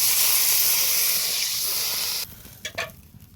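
Spices stirred and sizzling in a pan for a jackfruit curry with salted tangra fish, a loud continuous frying hiss that suddenly drops to quieter sizzle with a few stirring scrapes near the end.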